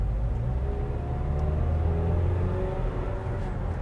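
A 2014 Mazda 6 Grand Touring accelerates, heard as a steady low engine rumble and road drone from inside the cabin, continuous without speech.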